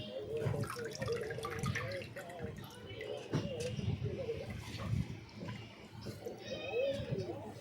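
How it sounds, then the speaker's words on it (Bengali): Bhetki fish bones are rinsed under tap water, giving a close, uneven splashing and trickling that rises and falls over several seconds while someone talks. "প্রথমে কাটাগুলোকে ভালো করে ধুয়ে নিলাম জল দিয়ে"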